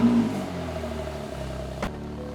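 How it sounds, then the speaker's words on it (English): A Porsche 911 991.2 Targa 4S with a 3.0-litre twin-turbo engine on a cold start, a loud close flare settling into a steady, rumbling high idle, with a brief sharp blip near the end. "what an incredible sound it produces on this cold start"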